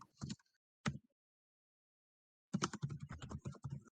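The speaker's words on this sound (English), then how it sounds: "intensely typing" Quick bursts of typing on a computer keyboard, a few isolated clacks followed by a dense rapid run of keystrokes, close and fairly quiet with no voices.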